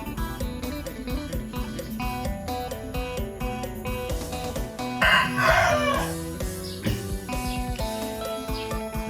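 Chickens cluck and a rooster crows loudly near a house, with a busy overlapping chorus of fowl calls throughout and one prominent crow rising in the middle.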